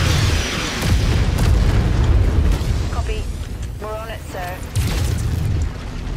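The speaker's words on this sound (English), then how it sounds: "you dropped artillery on yourself, which is amazing" Artillery strike in MechWarrior 5, with heavy low booms and rumbling blasts rolling on for several seconds, a burst of mechanical chirps and tones over the middle, and a fresh impact near the end.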